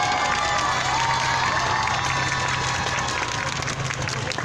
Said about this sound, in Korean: 이럴 때는 여러분 박수해도 돼요.